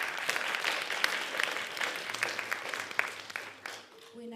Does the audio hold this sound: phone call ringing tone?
no